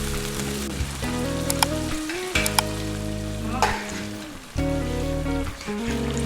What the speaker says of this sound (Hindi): मतलब कि चिकन को फ्राई होने में मज़ीद इन मसालों के साथ।